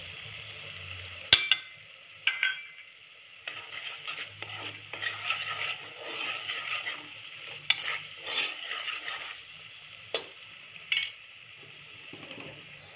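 A spoon stirs and scrapes through masala frying in a pan for prawn pulao, with soft sizzling underneath and several sharp metallic knocks against the pan across a steady stretch of kitchen work, no voices.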